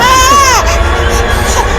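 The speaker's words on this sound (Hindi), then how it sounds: "अरे बच्ची रो रही है" A baby girl cries with a rising, wailing cry that breaks off, followed by softer whimpers and background voices in a busy indoor setting.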